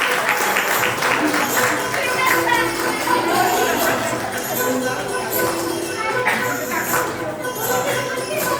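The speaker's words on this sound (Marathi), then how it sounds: "टाळ्या वाजवा जोरात" Loud, sustained clapping from guests at a children's birthday celebration, a dense steady patter with scattered voices mixed in.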